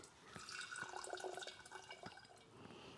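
Filtered water from a Berkey filter runs into a drinking glass, a soft close trickle with a rising bubbly tone and small clinks, fairly quiet and without speech.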